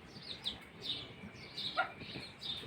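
Small birds chirp in bright, repeated bursts at early morning as they leave their nests, the calls spaced through the clip and moderately close over a quiet background.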